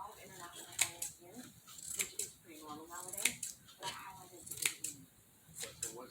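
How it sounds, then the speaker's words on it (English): Scissors snipping through tulle in close, repeated quick cuts with short pauses between them, a soft voice talking faintly in the background. "So I'm going to trim some of the top."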